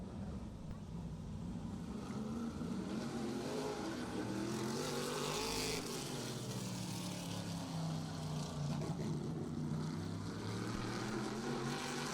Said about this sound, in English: Next car to hit the raceway.